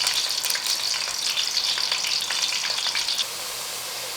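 Mutton pieces fry golden in hot oil for a spiced yakhni pulao, a steady close sizzle with light stirring scrapes, easing slightly near the end.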